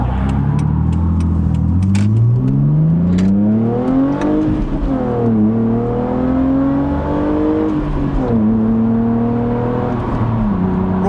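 A BMW Z4 with a backbox-delete exhaust accelerates hard up to 70 mph, its loud droning engine note climbing through several gear changes, each rising sweep dropping back briefly before climbing again, with small pops early on.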